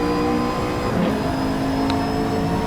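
Car engine in the racing video game Assetto Corsa, a loud sustained drone with a steady tone and slight pitch shifts, close and continuous throughout.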